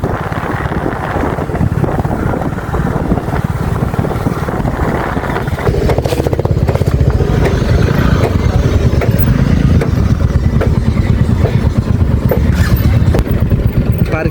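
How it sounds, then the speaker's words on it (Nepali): Motorcycle engine droning loud and close near the Saptakoshi river bank at Itahari, Sunsari, steady throughout with wind buffeting the microphone and a rise in intensity midway as the bike passes. "मान्छे होइन बाइक हो यो त"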